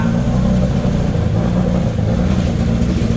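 Automatic motorcycle engine revving loudly and steadily up close, a dense continuous roar with no talk over it.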